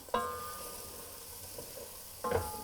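Sliced red and yellow peppers sizzling steadily in a pan, with two sharp clattering tosses of the vegetables at the start and end; close and fairly quiet, without talking.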